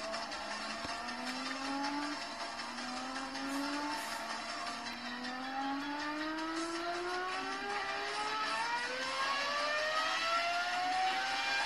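A car engine in the Roblox game Vehicle Simulator revs repeatedly, its pitch sweeping upward again and again as it accelerates, loud and steady with no talking.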